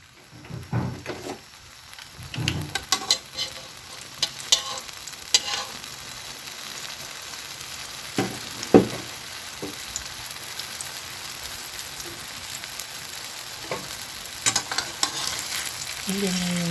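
Tortang talong, an eggplant omelette, fries in a pan with a steady sizzle punctuated by repeated scraping and tapping of a utensil stirring and turning it, close up with no voices.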